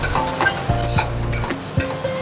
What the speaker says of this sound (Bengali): এইভাবে খুন্তি দিয়ে চেপে চেপে দিতে হবে